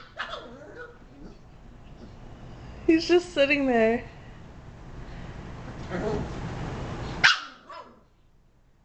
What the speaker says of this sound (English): Now she's barking at the remote.